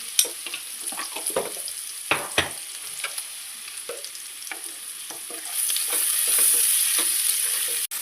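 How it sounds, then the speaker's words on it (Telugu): Onions sizzle in a pan until browning, with ginger added, as a spatula scrapes and knocks repeatedly, the frying hiss swelling louder toward the end. "ఈ ఉల్లిపాయలు బాగా వేగాలండి, రెడ్ కలర్ వచ్చేది."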